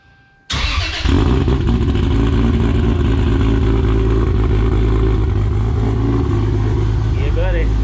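Toyota Supra with big cams cranks and fires after a quiet moment, then settles into a loud, lumpy idle with revving, close by in an engine bay.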